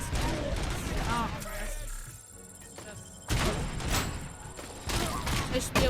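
Bursts of gunfire from a RoboCop video game, with repeated rapid shots and thumps in clusters separated by brief lulls, moderately loud, along with game sound effects and a person talking over it.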